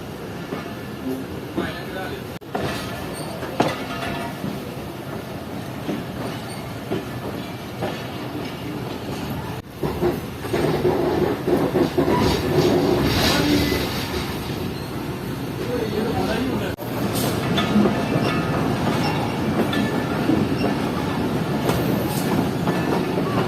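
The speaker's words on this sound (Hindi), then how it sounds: "सियालकोट रेलवे स्टेशन से निकल चुकी है ट्रेन और ट्रैक्स चेंज करके मेन लाइन पर आ चुकी है" Shaheen Passenger train pulling out of Sialkot station and crossing switches onto the main line, a continuous loud rumble with rhythmic clickety-clack of wheels over rail joints and occasional sharp clanks, heard from on board.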